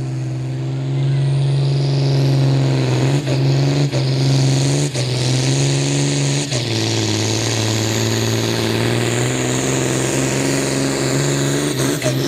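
John Deere tractor at a tractor pulling event, its engine roaring loud and steady with a strong low drone and brief dips in pitch, nearly alone with little talk.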